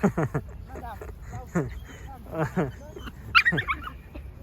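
A dog makes short yips and whimpering barks in a park, several close bursts mixed with people talking nearby.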